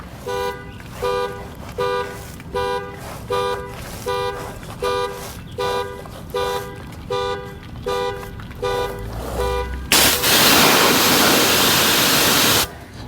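A car alarm on an APG Bronco sounds a long run of regular, loud horn-like blasts about every half second, followed by a burst of rushing water spray from washing nearby.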